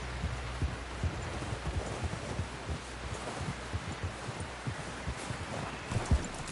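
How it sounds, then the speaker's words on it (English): Horse hooves clip-clopping at a steady walking pace, a faint even run of soft knocks heard at a distance. "Someone help John down off this horse."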